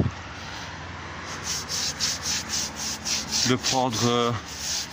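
A stiff brush scrubs brick with homemade cleaner in steady, evenly spaced rasping strokes, followed at the end by a short burst of voice.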